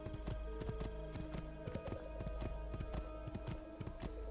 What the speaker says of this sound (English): Finally, a communal horse for us to take with no consequences.